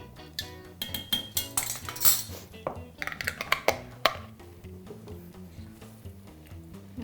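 A spoon clinks and scrapes against a metal pot as soup is stirred, a quick irregular run of close metallic taps and knocks that settles into steadier clicking.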